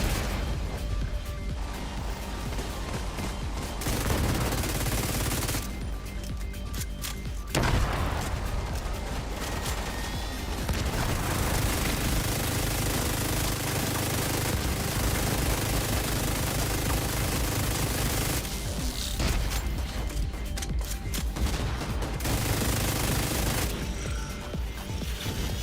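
Enemy turrets in The Division 2 rattle off sustained automatic bursts, dense and loud, with brief pauses between long volleys of rapid gunfire amid battlefield noise.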